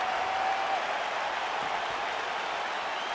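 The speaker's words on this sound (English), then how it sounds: "Crowd getting a little bit restless." Arena crowd murmur in the UFC 5 video game, a steady, dense wash of restless spectators with faint cheering, continuous and moderately loud throughout with no clear speech.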